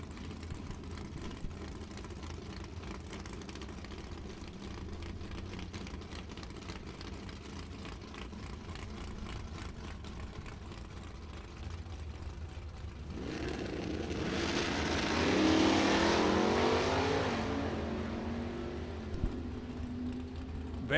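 At a Super Pro bracket drag race, a 1978 Camaro lines up against a 1971 Vega wagon. Engines idle and whir steadily at first, then a loud, rising roar of hard acceleration swells midway and slowly fades off.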